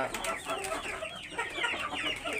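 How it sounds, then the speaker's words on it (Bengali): Australorp chickens on a farm clucking steadily, a dense flock chorus of overlapping clucks close by, with no talk. "দেখেন অষ্টলাভ মুরগিগুলো"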